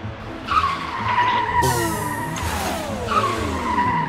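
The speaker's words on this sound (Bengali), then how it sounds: "আগে গাড়ির চাকা কাদায় ফেসে গেছে, বাবা আর স্টার্ট নিচ্ছে না" Car wheels stuck in mud spin and whine as the engine revs, with squealing tones sliding up and down in pitch over a steady rumble.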